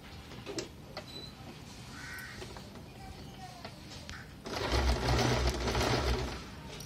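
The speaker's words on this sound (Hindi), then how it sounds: "और साथ साथ जो है हम अपनी पिन को निकालते हुए जाएंगे, और बिल्कुल सीधी सिलाई जो है इसमें लगेगी।" Sewing machine running a straight seam on a zippered cushion cover, quiet at first and then a louder steady whirring burst for the last couple of seconds, with faint ticks and a crow cawing in the background.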